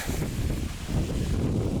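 Steady wind buffets the microphone with a low, constant rumble and rustle, loud and unbroken, with no voices, at an outdoor hammock camp.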